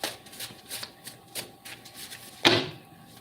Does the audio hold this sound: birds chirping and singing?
no